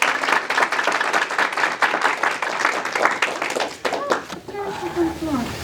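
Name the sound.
church congregation applause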